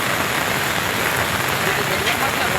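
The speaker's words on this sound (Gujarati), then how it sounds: "જૂનાગઢમાં ધોધમાર વરસાદ." A heavy downpour in Junagadh makes a dense, constant roar of rain pounding surfaces, loud and unbroken across the whole stretch.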